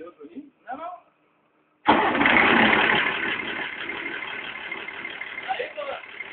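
After a few words from a voice, a freshly assembled car engine cranks and fires abruptly, then settles into a steady, rumbling idle close by without revving.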